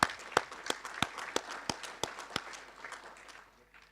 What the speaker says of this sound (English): applaud him.